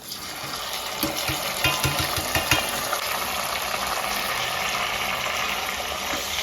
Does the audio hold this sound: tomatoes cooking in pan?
yes